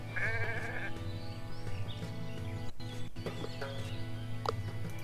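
Sheep in the video game Renowned Explorers bleat repeatedly over a sustained tonal music bed, with a few sharp clicks breaking in, at moderate volume and with no voices.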